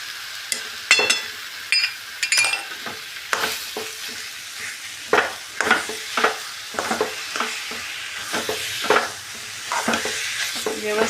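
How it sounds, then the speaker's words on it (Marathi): A spoon scrapes and stirs a thick ladoo mixture with cardamom powder in a hot pan, giving repeated uneven scraping strokes over a soft sizzle, close and fairly loud. "व्यवस्थित मिश्रण मिक्स करून घेऊया"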